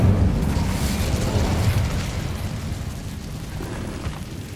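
A fiery rumbling burst from the Incendio fire spell in Hogwarts Legacy, a loud low roar that swells at the start and then slowly fades over a few seconds, with no talking.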